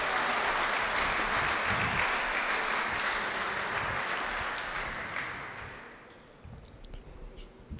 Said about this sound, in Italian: Pubblico già applaude.